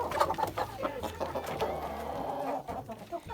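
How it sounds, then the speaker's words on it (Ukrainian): Rooster clucking, repeated short calls in an irregular rhythm, fairly close, with some background noise. "такий гарний півник"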